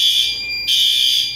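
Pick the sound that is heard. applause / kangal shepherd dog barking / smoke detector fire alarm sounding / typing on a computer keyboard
smoke detector fire alarm sounding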